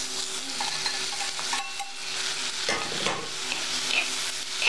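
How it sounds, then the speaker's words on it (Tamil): Onions sauté in a pan for an egg fried masala, a steady sizzle with a scraping stir partway through, close and uninterrupted. "வெங்காயம் நல்லா வதக்கிட்டு இருக்கேன்."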